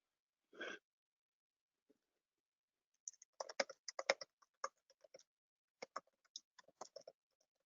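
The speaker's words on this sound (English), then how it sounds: "after I type this" Fingers tap out bursts of clicks on a computer keyboard, quiet and close, in quick irregular runs with brief pauses and no voice over them.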